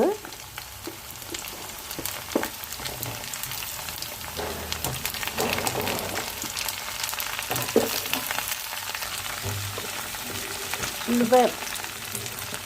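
Drumstick pieces frying in oil with browned onions in a pan, making a steady close crackling sizzle with occasional stirring scrapes throughout and no talk.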